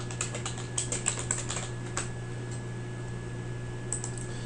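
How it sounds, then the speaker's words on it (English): Someone types text into a spreadsheet cell on a computer keyboard: a quick run of light key clicks that thins out, then a few final taps over a low steady electrical hum. "I want to type in total travel time."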